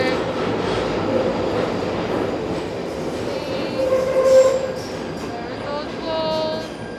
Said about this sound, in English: As the train comes in, we're about to hear it.